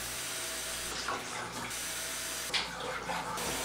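Tap water runs into a sink to wash developed 120 and 4x5 film at home, a steady close hiss with two brief louder splashy surges, no talking.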